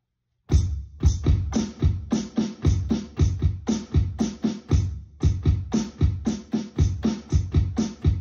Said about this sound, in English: that is a left-handed paradiddle with the kick drum substituting for the right hand